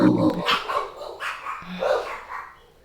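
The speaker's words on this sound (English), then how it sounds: "Even with the artwork up, that dog sound is amazing." A dog-barking sound effect gives several quick, rough barks in close succession, mixed with people talking.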